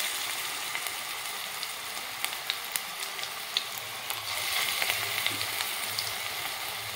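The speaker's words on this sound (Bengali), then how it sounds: "তো এইভাবে আমি ভেজে নেব।" Drumstick flower fritters sizzle steadily in hot oil, a dense close frying crackle with scattered pops and no voices.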